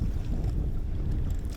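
Strong wind roars and buffets the microphone steadily on open water at Lake Guntersville, Alabama, a low rumbling rush with no voices.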